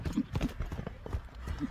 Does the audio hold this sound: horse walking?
yes